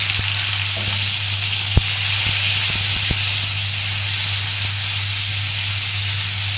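Chopped mango hits hot oil in a pan already holding dried red chillies and spices, giving a steady loud sizzle throughout with a few faint clinks of a utensil and a low steady hum.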